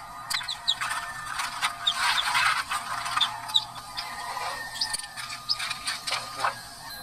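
Young chicks peep in quick, high, overlapping chirps that come in scattered bursts, fairly faint, with no voices.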